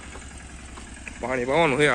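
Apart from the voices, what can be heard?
tractor engine running in field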